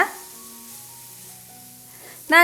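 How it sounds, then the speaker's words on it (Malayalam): Masala sizzles as it is sautéed in a pan for a restaurant-style tomato fry, a brief steady frying hiss with a louder burst at the close. "നല്ല രീതിയിൽ തന്നെ എല്ലാം കൂടി ഒന്ന് വഴറ്റി കൊടുക്കാവുന്നതാണ്"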